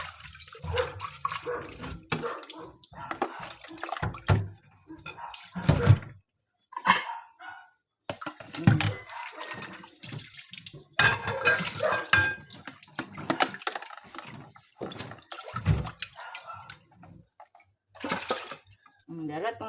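Cooking pot being scrubbed and rinsed under running water at a sink, with intermittent splashing and scraping bursts close by, while a person talks over much of it.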